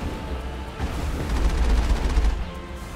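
A vehicle-mounted cannon fires in the video game Mass Effect, a loud booming burst of rapid rumbling gunfire that swells in the middle and then tails off, with no talk over it.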